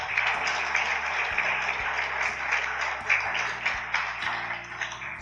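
Church congregation applauding during a sermon, a steady wash of clapping that holds for several seconds over a low organ or keyboard chord.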